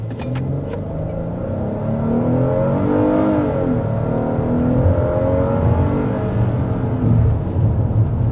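A 2026 Hyundai Palisade Calligraphy SUV accelerates in sport mode, its engine note rising in a steady, loud surge with road and tire noise, heard from inside the cabin with no talking.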